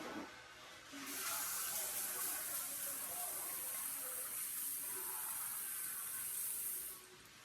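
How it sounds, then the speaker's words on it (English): Tap water runs steadily into a sink while someone washes their hands in a home kitchen, a loud continuous hiss starting after a second and stopping near the end, with no talking over it. "Let me wash my hands."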